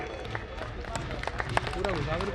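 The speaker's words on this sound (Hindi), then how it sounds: "एक बार जोरदार तालियां आरपी सिंह जी के लिए" An audience claps for a land donor at a community gathering of the Jadaun Sammelan in Faridabad, a brief scattered patter of hands under ongoing voices and crowd murmur.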